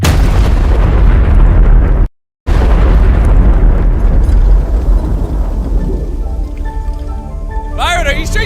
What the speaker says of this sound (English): Using our last bit of spare fuel, the pyrotechnics quickly re-rigged the bomb.